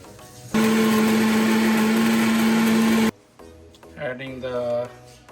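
A kitchen grinder whirs loudly for about two and a half seconds, blending curry leaves, kasuri methi and spices into a marinade paste, then cuts off abruptly as a person starts talking.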